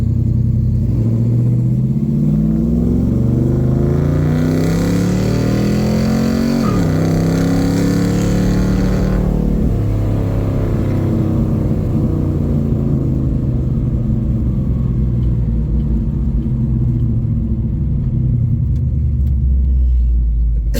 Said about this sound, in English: There's a fire truck running out this way.